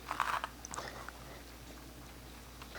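Jalapeno seeds and ribs scooped out with a utensil, crisp crunching scrapes up close at the start and then a few quieter scrapes over low background noise.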